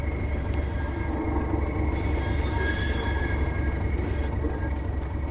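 A train in Train Sim World 3 rumbles steadily with a low, continuous rolling drone, a faint high wheel squeal running over it, close and even throughout with no talk.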